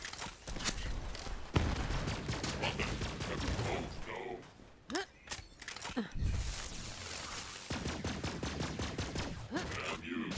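Exploder Bot enemies firing in Borderlands 3's Handsome Jackpot, dense rapid bursts of gunfire with brief lulls, a voice talking over the clatter in places.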